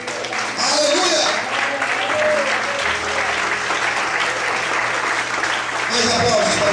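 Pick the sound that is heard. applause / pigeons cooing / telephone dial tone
applause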